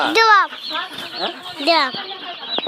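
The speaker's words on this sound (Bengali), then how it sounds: "আমাদের মুরগি বাচ্চা চলে এসে" Young chickens calling close by in a quick series of sharp, high, rising and falling chirps, several overlapping, with a few clucky notes between them.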